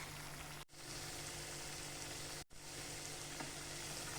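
Malai methi matar gravy simmers and sizzles in a pan while being stirred, a steady soft frying hiss broken by two brief gaps.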